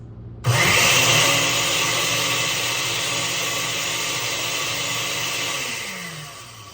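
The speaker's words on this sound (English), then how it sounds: "So anyway, we're just gonna blend this." A powerful blender blending bulletproof coffee kicks in abruptly with a loud, steady whirring roar that runs for several seconds, then spins down.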